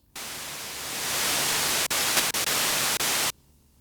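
A burst of flat, hissing white noise from the analog noise generator of a Korg DW-8000 synthesizer starts suddenly, holds steady with a few brief dropouts, then cuts off cleanly into near silence.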